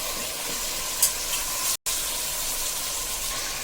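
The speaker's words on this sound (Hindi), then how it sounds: "गोश्त को फ्राई करने के लिए हम गरम तेल में डाल दिया है" Mutton pieces frying in hot oil for nihari, a dense continuous sizzle close up with a brief clatter, no talking.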